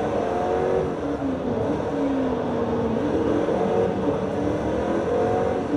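A race car in Forza Motorsport 3 at the Nürburgring gives a loud, steady engine roar with a rising and falling whine, driving at speed, continuous throughout with no talking.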